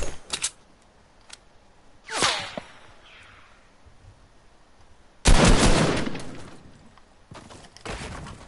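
Gunfire in the video game Fortnite, a few separated loud shots and bursts with quiet gaps between them, one long ringing blast near the middle, no voices.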